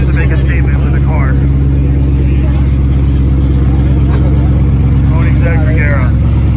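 A Koenigsegg Regera hypercar drives out past a following crowd at a Supercar Saturday event at McLaren of Philadelphia. Its engine gives a loud, steady, close-up drone, with voices faintly underneath.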